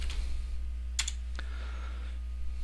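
A few keys tapped on a computer keyboard, two or three quick clicks over a steady background hum, close but fairly light.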